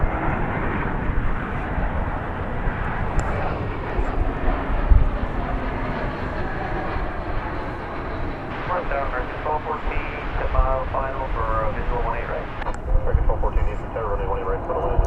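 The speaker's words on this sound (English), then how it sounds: "This aircraft will be making a right-hand turn" A fixed-wing aircraft makes a right-hand turn at DFW Airport, its engine giving a steady, broad roar heard from a distance throughout, while people talk over it.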